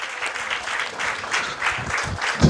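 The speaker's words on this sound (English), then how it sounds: "Could we stand and give those lucky people a round of applause?" Audience applause at a housing presentation ceremony where new homes are handed over, a steady patter of clapping from a standing crowd that swells toward the end.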